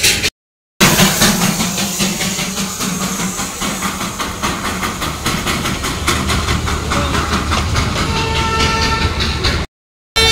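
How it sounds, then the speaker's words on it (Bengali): Darjeeling toy train passing at Batasia Loop, a loud, steady rumble and hiss of rolling carriages that lasts throughout, with a horn-like tone appearing near the end. "দেখে নিছো তোমরা টয় ট্রেন"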